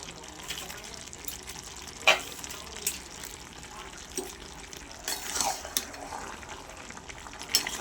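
Bhetki fish bones hit a pan of softened vegetables simmering in their own water for a chorchori, giving a quiet, steady sizzle broken by a few light clinks and stirring scrapes.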